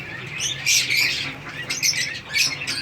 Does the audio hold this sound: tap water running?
no